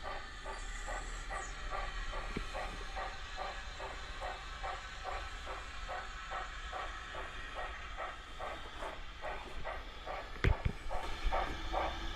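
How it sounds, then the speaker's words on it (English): A model train clatters steadily along the layout track, its wheels ticking in a fast regular rhythm under a constant hiss, with a brief sharp knock near the end. "this is the first train to run on the main layout."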